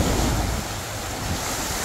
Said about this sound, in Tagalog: Medyo balod ang dagat, oh.